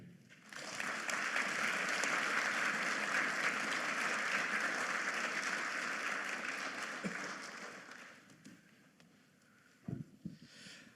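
An audience applauds Fred Biletnikoff, an Erie native, with sustained dense clapping for about eight seconds that then fades out, followed by a couple of faint thumps.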